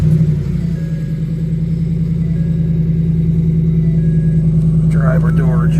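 A Ford F150 pickup truck engine catches and settles into a steady, loud, close idle rumble, with a brief chime-like sound near the end.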